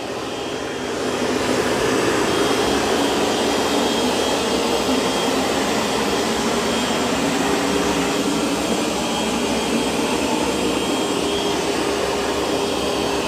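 A Roborock S8 robot vacuum and mop hums and whirs steadily at close range, a constant broadband drone with no talking.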